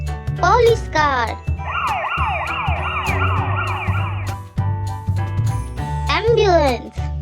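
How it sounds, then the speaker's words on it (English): Police car siren from a children's vehicle-sounds lesson: a loud rising-and-falling wail repeating for about three seconds, framed by short chirpy voice or jingle sounds before and after. "Police car."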